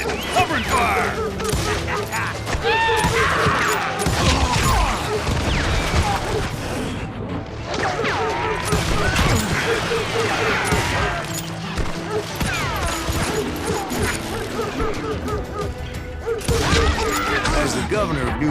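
Shootout gunfire in the Western game Call of Juarez: Gunslinger, a dense barrage of shots and crashes layered over music and effects throughout, with voices talking across the action.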